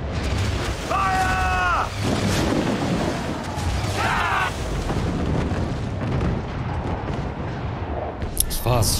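Heavy booming ship cannon blasts in Assassin's Creed 4: Black Flag rumble under excited shouting voices, with muffled thuds and debris noise trailing off near the end.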